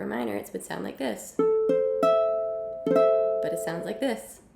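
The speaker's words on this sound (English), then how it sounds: "If it were minor, it would sound like this." A minor chord played for comparison sounds as separate notes and then together, ringing and fading between stretches of speech.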